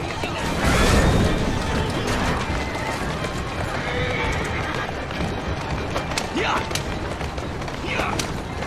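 A horse in Assassin's Creed Syndicate whinnies and clops along on cobbles, hooves and a neigh up close over a steady bed of city ambience and creaking mechanisms, with a voice speaking briefly.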